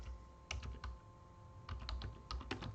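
Keystrokes on a computer keyboard come in quiet, irregular clusters of clicks over a low background hum, captured close but faint, with no voices.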